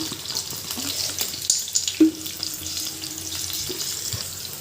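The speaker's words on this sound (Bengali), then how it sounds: "পেঁয়াজটাকে ব্রাউন কালার করে ভেজে নেবেন" Onion and green chili frying in oil in a pan for a Bangladeshi bitter gourd stir-fry, a soft steady sizzle with a few clatters and bumps of cookware partway through.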